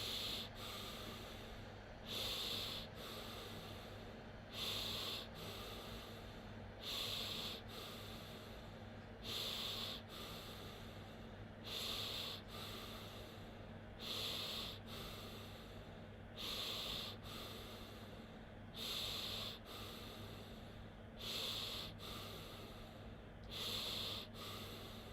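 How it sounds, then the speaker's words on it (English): A slow, rhythmic breathing exercise with sharp nasal inhales and exhales in regular bursts roughly every two to three seconds, close and alone over a faint steady background hum. "Keep on breathing like this."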